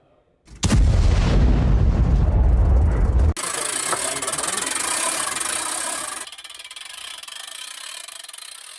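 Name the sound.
Russian howitzer firing shells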